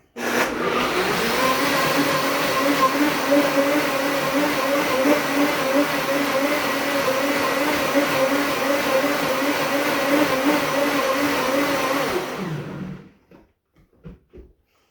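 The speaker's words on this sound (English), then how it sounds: "Cover it up and blend it up." A blender whirs steadily at full power for about twelve seconds, blending seasoning and Rub with Love steak sauce, then cuts off and winds down, leaving a few faint clicks and knocks.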